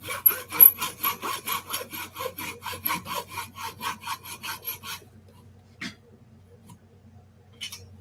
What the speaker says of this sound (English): Got me a little miter box and a hacksaw for this.